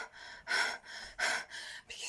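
A person imitates heavy breathing, producing three loud, sharp gasping inhales spaced roughly evenly apart, close to the microphone, with softer exhales between them.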